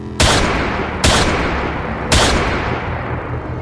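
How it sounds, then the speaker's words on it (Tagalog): Three loud gunshots ring out about a second apart, each with a sharp crack and a long echoing decay. "nang bigla akong marinig ang mga sunod-sunod na putok"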